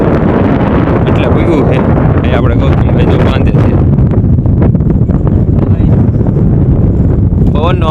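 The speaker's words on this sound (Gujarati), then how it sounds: "પવનનો અવાજ ઓછો આવતો છે." Strong wind buffets the microphone outdoors at a farm near sunset, loud continuous rumbling gusts, with a voice speaking faintly underneath.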